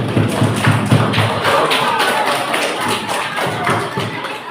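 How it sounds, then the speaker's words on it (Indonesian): Students in a classroom clap together, a loud, rhythmic series of hand claps and thumps with faint voices underneath. "Tepuk tangan."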